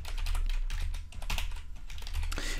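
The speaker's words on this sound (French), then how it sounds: "je peux taper du texte" Rapid, uneven clatter of keys on a computer keyboard as text is typed, close and fairly loud with brief pauses between bursts and no speech.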